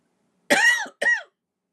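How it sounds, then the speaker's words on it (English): Two harsh, close coughs in quick succession, the first longer and the second shorter, with silence before and after. "Still have a nasty cough, but not as often."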